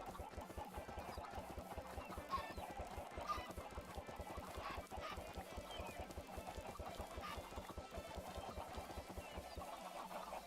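A crowd of Minecraft chickens hatched from thrown eggs in SevTech Ages, clucking continuously in a busy, overlapping chorus, with a few sharper calls standing out near the start and middle.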